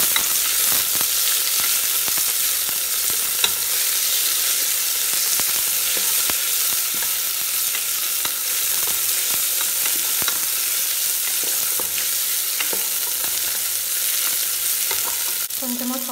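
Ingredients for white brinji rice sauté in a hot pan, a loud, dense, continuous sizzle heard up close with faint stirring scrapes and a brief clatter near the end.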